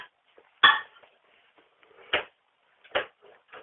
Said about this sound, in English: Now you open the door on this.